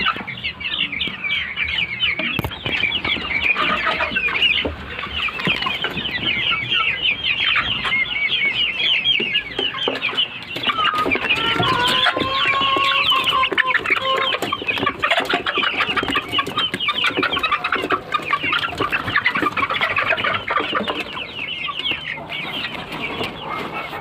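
Young native country chickens about two and a half months old cluck and chirp steadily as a flock, a dense continuous chorus close to the microphone with no talking.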